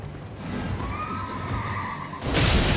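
A horse in the video game Elden Ring gives a single whinny with a rising, wavering pitch over steady game noise, followed by a sudden loud burst of combat sound.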